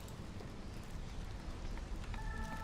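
A hailstorm in the video game Diablo makes a steady, dense patter of hail and rain that continues without a break, with faint metallic tones near the end.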